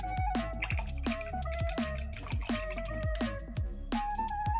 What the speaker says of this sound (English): I'm just going to quickly wash my brush